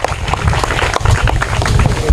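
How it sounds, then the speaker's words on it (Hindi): An audience at an Independence Day general-knowledge quiz competition breaks into loud, sustained applause for a correct answer, dense clapping filling the whole moment. "करेक्ट आंसर, जोरदार तालियां इनके लिए"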